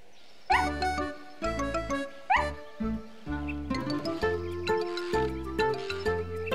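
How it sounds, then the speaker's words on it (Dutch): A small cartoon dog in a playground barks happily, a run of short, bright, evenly spaced yips that give way to a tuneful, sustained backdrop. "Ze kwispelt met haar staart en blaft vrolijk."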